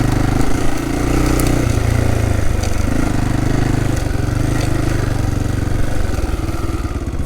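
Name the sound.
motorcycle riding on sandy dirt road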